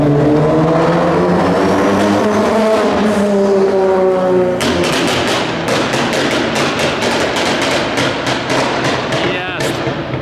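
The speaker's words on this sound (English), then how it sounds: "That's the exhaust on that Liberty Walk GTR" Liberty Walk Nissan GT-R lets off a rapid string of loud exhaust cracks and pops, like machine-gun fire, after several seconds of revving engine, with a final burst near the end.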